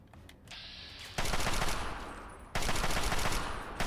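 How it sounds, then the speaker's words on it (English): Gunfire rings out in Fallout 3, loud and close, with two sharp blasts each followed by a long, rolling echo that fills the space between them. "That guy has to be using a sniper rifle."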